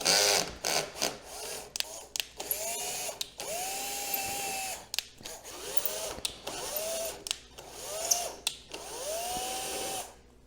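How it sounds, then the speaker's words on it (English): A power tool running a tap through bolt holes on a budget-built Club Car golf cart, with repeated whirring spin-ups and rising motor whines broken by short pauses. "I think I'm gonna go ahead and run a tap through all these bolt holes"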